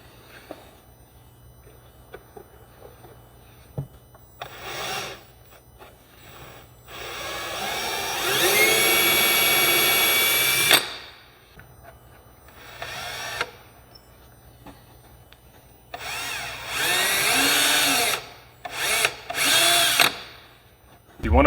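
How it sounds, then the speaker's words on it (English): A power drill pre-drills screw holes into a wooden speaker cabinet in bursts, a few short whirs and one long steady run, with quiet pauses between them. "You want to pre-drill just enough to get some threads to catch it and grab into the side."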